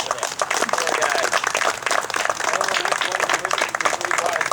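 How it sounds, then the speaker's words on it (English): An audience at a wastewater plant dedication ceremony gives a round of applause, with steady, close, crackling clapping throughout and voices mixed in. "So a round of applause for them."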